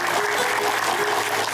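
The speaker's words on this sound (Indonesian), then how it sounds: "tepuk tangan buat ibu semuanya juga" Audience applause from a women's Islamic study group (majelis taklim) from Rumpin, Bogor, seated in a television studio: a steady, dense wash of clapping that holds at the same level throughout.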